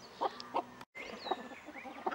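A mother hen clucks near her young chicks, with several short, fairly close bursts of clucking and other chicken calls spaced across the moment amid quiet farmyard background.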